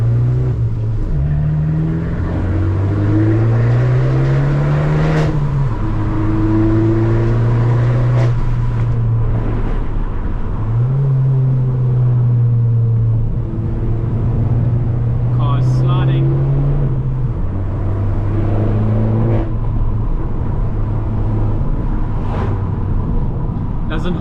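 A car races up a wet hill climb time trial, its engine droning steadily and shifting through gears as it passes nearby, while a person talks over the continuous motor noise.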